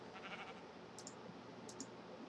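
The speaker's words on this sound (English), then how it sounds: "Sheep, get it, get out of the way. Get out of the way, sheep." Sheep bleating in the Minecraft video game, two short high bleats about half a second apart set against faint clicking and a low steady background.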